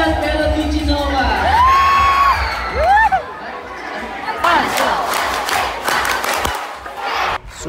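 A crowd of campers roars with shouts, cheers and whoops at an opening-night event at a youth camp. The loud, continuous din has rising individual yells standing out early on.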